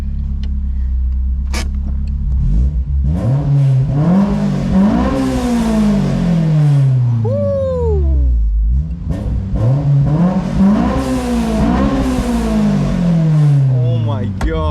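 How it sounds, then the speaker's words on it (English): A modified car with a new exhaust, once fitted to a turbo car and running rich, revs hard outdoors in repeated rising and falling bursts, loud and close, with a person whooping and talking over it. "Pull it outside so we can get a clear sound of the exhaust."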